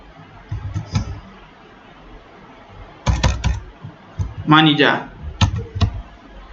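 Short bursts of keys being tapped on a computer keyboard at a staff table, with gaps between, while a voice speaks intermittently nearby.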